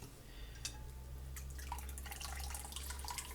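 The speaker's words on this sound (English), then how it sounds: "But we'll strain as much as we can in there." Homemade turkey bone broth being strained into a bowl: soft trickling, splashing and scattered drips of liquid, quiet and close, with no talking.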